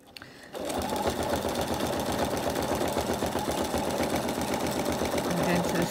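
A sewing machine runs steadily in fast, close stitching for free-motion embroidery of a campervan appliqué, its rapid mechanical chatter starting abruptly after a brief quiet moment and continuing without pause.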